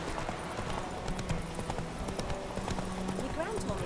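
Roach the horse from The Witcher 3 gallops in a steady run, hooves clip-clopping rhythmically under game music and ambience, with voices talking over the hoofbeats.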